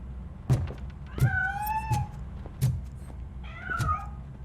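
A cat in a video game meows twice in rising, drawn-out calls, with a shorter third meow near the end, each one close and clear over low rumbling background noise and thumps.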